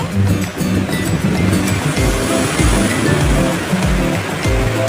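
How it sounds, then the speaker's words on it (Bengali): Water for a butter paneer gravy boils hard in a pan, making a loud, continuous rushing bubble with a rhythmic low churning throughout, close and with no voices. "তারপর আমি দিয়ে দেবো পরিমাণ মতো গ্রেভির জন্য অল্প একটু জল। দেখো ফুটে গেছে।"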